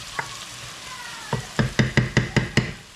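Onions, peppers and garlic cook in bear grease in a pan, a soft steady sizzle broken by a quick run of rhythmic scraping stirs near the end.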